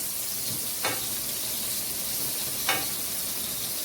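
Sliced bananas caramelizing in butter in a pan give off a steady, close frying sizzle, with two brief brighter bursts of spattering as the pieces are turned.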